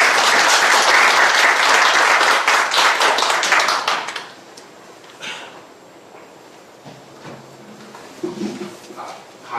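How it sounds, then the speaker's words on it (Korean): Loud audience applause at a lecture in a chamber of commerce hall greets the speaker for about four seconds, then quickly dies away to quiet room noise with a few faint shuffles. "큰 박수로 모시겠습니다"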